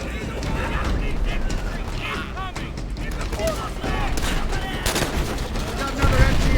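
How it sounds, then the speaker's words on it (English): Continuous chattering machine gun fire in the World at War shooter, dense and steady throughout with mechanical clatter and whistling tones layered over a busy battle bed. "Got another MG on our left flank."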